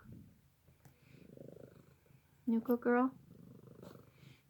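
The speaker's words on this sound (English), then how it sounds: "Oh, there's the purrs." A cat purrs close by in a short, loud burst of rumbling trills, with soft talking before and after.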